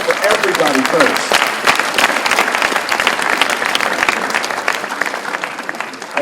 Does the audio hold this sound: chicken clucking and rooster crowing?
no